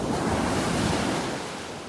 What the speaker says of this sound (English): there's some nice waves coming on shore here